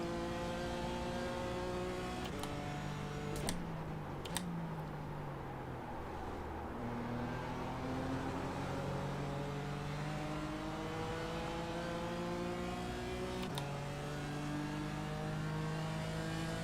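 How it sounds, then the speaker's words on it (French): An overheating race car engine in the iRacing simulator revs and whines continuously, pitch climbing through gear shifts with sharp clicks between, loud and close with no talk. "Il y a mon moteur qui est en train d'imploser, Cyril."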